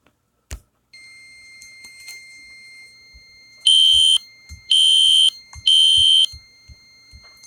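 A Fire Lite MS-10UD fire alarm system sounds inside a Roblox game: three loud, shrill electronic horn blasts in a steady on-off pattern over a faint continuous tone, with scattered low thumps between them.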